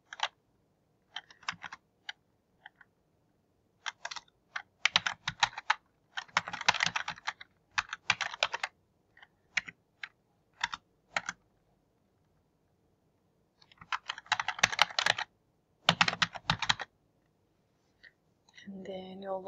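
Keys clack on a computer keyboard as an email address and password are typed, in short bursts of quick taps separated by pauses, close and fairly quiet.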